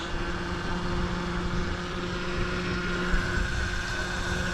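Kugoo electric scooter riding in gear 1, a steady whining motor hum mixed with continuous wind and road rumble, sustained and fairly loud without talk.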